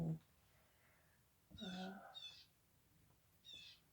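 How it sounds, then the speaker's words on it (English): A bird's harsh calls ring out outdoors in a few separate bursts, fairly faint and distant, with quiet pauses between them. "you hear that bird out there just squawking?"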